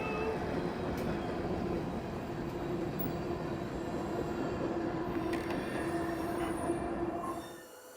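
A train rumbles past continuously, loud and close, with metallic squealing from the wheels before the noise drops away at the end.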